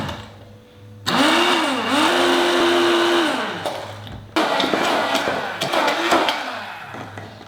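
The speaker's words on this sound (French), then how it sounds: "Et on va émulsifier tout ça avec le mixeur et un petit peu d'huile." A hand blender whirs through egg, leftover vinaigrette and a trickle of oil to make mayonnaise, its motor buzzing loudly in two long bursts with a brief stop between and pitch shifts as it works.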